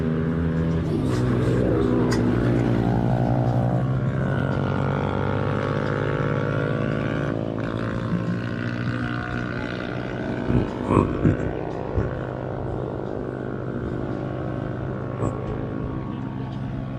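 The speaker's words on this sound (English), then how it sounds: "That's some noisy motorcycles." Loud motorcycles roar past near a beach, a sustained heavy engine drone that swells and holds for several seconds before gradually fading, with a few brief knocks and small sounds toward the end.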